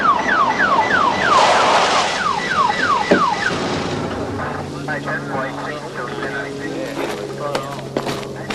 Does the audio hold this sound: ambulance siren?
yes